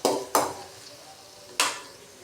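Onion and garlic frying in a pan for radish sambar, with a few sharp scraping stirs over a soft, steady sizzle; close and fairly quiet, no talking.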